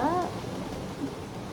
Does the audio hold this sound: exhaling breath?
no